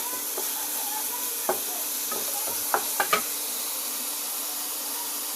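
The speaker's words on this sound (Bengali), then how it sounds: "ধনিয়ার গুঁড়া এবং হলুদের গুঁড়া লবণ দিয়ে এখন আবার একটু ভুনবো।" Catla fish frying in a pan with coriander and turmeric powder and salt, a steady loud hiss and sizzle with a few scattered knocks and stirring clicks, no talk.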